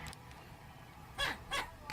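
Two short, sharp barks from a man imitating a dog, fairly close over a low background hum, spaced about a third of a second apart.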